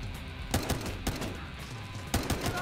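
Rapid bursts of gunfire in Battlefield: Hardline, several sharp shots in quick clusters over a steady background of game noise.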